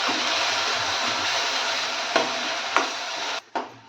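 Ground masala paste being mixed into golden-fried garlic in hot oil for garlic soup, a steady sizzle with a few sharp utensil scrapes near the end, close and alone.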